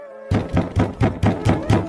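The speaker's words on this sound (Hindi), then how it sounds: "चील दरवाजा खटखटाती है" A cartoon door is knocked on in seven evenly spaced, sharp knocks after a brief quiet start, each one close and loud.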